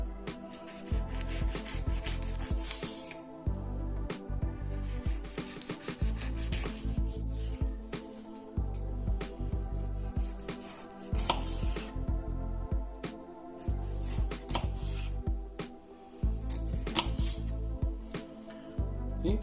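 A knife saws steadily through cleaned mackerel on a cutting board, making repeated close rubbing, scraping strokes in even rhythm with short pauses between cuts.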